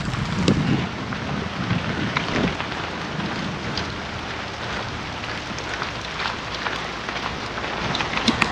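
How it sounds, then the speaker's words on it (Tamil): Steady, dense rain pours down at an old stone temple, a continuous close hiss of falling water with scattered drips and no pauses. "ஸோ மழை பிடிச்சிருச்சு."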